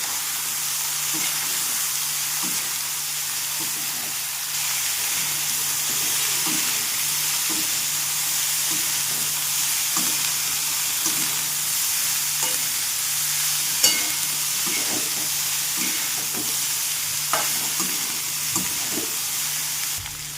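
Boiled cauliflower sautéing with garlic and spices in a pan gives a steady hissing sizzle, punctuated by repeated light scraping taps of a spatula stirring, alone and close.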